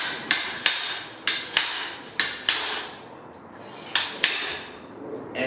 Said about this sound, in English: you're gonna use the slide hammer to keep hitting it until it comes out